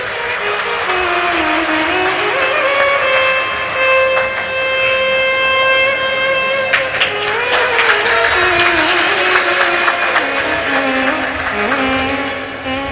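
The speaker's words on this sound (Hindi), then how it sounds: "एक बार जोरदार ताली बजाओ इस बालक के लिए।" Loud crowd clapping at a Shiv Mahapuran katha religious gathering, a steady wash of applause that swells midway, mixed with sustained horn-like musical tones throughout.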